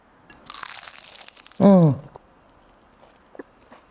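A single sharp, close crunch of biting into a crispy baked snack made with ricotta, Parmesan and garlic, preceded by faint rustling and followed by quiet chewing.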